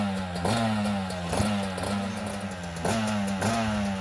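Motorcycle engines revving in snow at minus 30 degrees Celsius in Norway, idling with a clattering tone then rising in repeated short throttle blips, loud and close.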